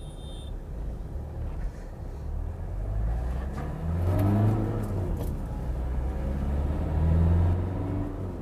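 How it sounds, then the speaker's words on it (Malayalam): A diesel engine of a Toyota Etios Liva with about 150,000 km drones steadily from inside the cabin on a highway, a low rumble rising slightly as the car accelerates. "ആ ഡീസൽ എഞ്ചിൻ്റെ ചെറിയൊരു നോയ്സ് ഉണ്ട്"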